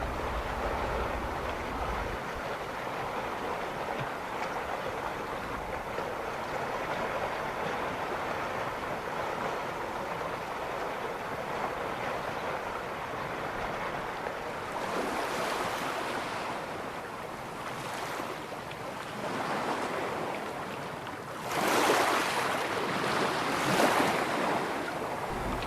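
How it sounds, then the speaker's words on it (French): Ocean waves breaking on a beach in Portugal, a steady wash of surf with wind rushing across the microphone, swelling into louder crashing breakers near the end, with no voices. "Écoutez le son des vagues."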